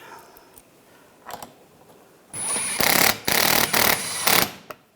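A power tool drives screws into the front bumper molding of a 2013-2016 Dodge Dart. It whirs loudly in several short bursts of about half a second each, following quieter handling clicks.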